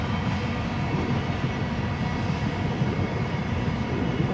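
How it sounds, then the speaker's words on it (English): A steady, loud rumbling roar of a freight train passing Glenbow Ranch Park on a snowy day continues unbroken from start to finish, heavy in the low end, with no voices. "The uninteresting train passing by the Glenbow Ranch Park."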